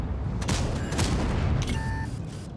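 Heavy tank cannon and gunfire in a combat video game featuring the Durendal tank, a dense low rumble of blasts with brief sharp reports and a faint tonal whine near the end, no talking.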